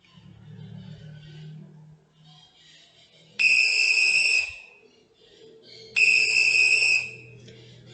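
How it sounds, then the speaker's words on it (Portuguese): Two shrill whistle blasts, each about a second long, separated by a short pause, loud against a quiet background. "O som de um apito"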